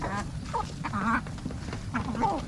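Farm ducks quack in short bursts close by, mixed with other poultry sounds, while a person talks over the noise throughout.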